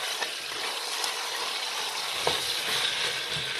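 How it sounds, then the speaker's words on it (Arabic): Tomatoes frying in a pot while cooking a Moroccan fennel, potato and chickpea tajine, a steady bright sizzle close up with a few stirring clicks and splashes. "خليها تقلى شويه الطماطم هذه"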